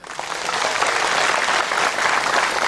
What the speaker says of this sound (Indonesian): Silakan boleh tepuk tangan.